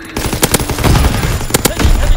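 Rapid automatic gunfire in Call of Duty WW2 on PS4, loud and close, with bursts of shots and sharp cracks layered over a battle din, and faint voice callouts underneath.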